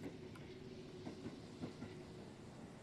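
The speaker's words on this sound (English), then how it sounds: "Oh, the train." A video-game train rumbles past with a steady low drone and faint rhythmic clickety-clack of wheels, quiet and continuous.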